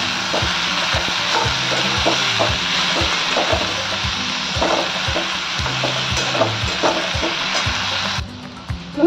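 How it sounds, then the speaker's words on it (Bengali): Vegetables for a Bengali chorchuri, including note shak greens, sizzle and crackle steadily in a pan over a low gas flame, with repeated scraping and knocking of a spoon as they are stirred close by. "হাই ফ্লেম দিয়ে সবজিগুলোকে ভেজে নিয়েছি, এবার গ্যাসের ফ্লেমটা একদম স্লো করে দিয়েছি। এবার এগুলোকে নাড়বো।"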